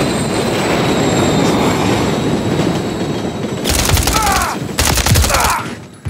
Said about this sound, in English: Watch for trains.